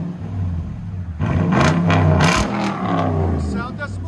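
Toyota Tundra 2018 pickup with 5.7L V8 and Carven R-Series exhaust revving, a deep engine roar rising sharply after a quieter idle, with several throttle blips close by; people speak over it.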